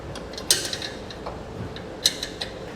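A flange nut is threaded by hand onto a bolt while a Blue Ox base plate is fitted to a 2018 Ford Edge. Faint metallic ticks and scrapes come up close and quiet, with a few sharper clicks.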